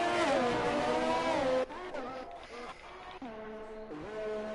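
A Formula 1 race car on an out lap at the Mexican Grand Prix in an F1 racing game, its high-pitched engine whining loudly, then dropping and rising again through gear changes as revs fall and climb.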